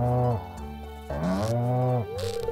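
A cow in the Stardew Valley farming game lets out a couple of long, close moos, the first sliding down and the second rising, with no talking over them.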